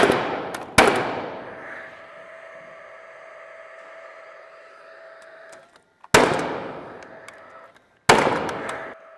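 Pneumatic nail gun fastening LP Legacy subfloor sheathing for a barndominium mezzanine: three sharp, loud, close shots, each trailing into a ringing decay, with a steady hiss or hum in between.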